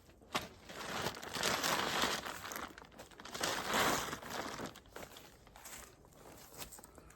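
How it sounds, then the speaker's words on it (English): A plastic tarp on an outdoor shelter is cut down, giving loud crinkling and rustling bursts up close that swell and fade across the clip. "We're gonna cut down this tarp."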